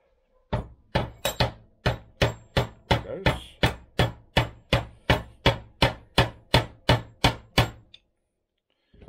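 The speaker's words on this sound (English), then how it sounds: "He is using a nylon hammer on the end of the shaft here." A nylon hammer taps sharply on the end of a Triumph water pump shaft about sixteen times in a steady rhythm, each strike crisp and close, followed by silence.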